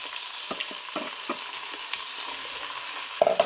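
Frozen mushrooms hit hot oil in a pan, giving a steady moderate sizzle broken by soft clunks and stirring taps, with a short clatter near the end.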